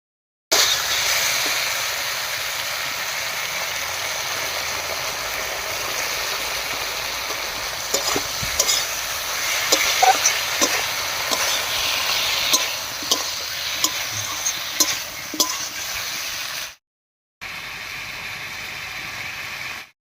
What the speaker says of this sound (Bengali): মশলা বাটাটা দিয়ে খুব ভালো করে মিশিয়ে নিয়েছি